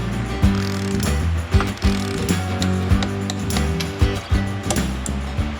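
A wrench with an extension tightens bolts during assembly of a Yamaha YZ dirt bike, making close, loud mechanical ratchet clicks and sharp metallic knocks at irregular intervals.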